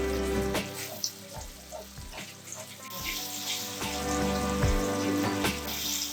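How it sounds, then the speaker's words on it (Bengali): Boiled onion paste frying in a pan for a coriander chicken dish gives a steady close sizzle, broken by occasional clinks and scrapes of a utensil against the pan. "পেঁয়াজটাকে অল্প কিছুক্ষণ ভেজে নিতে হবে।"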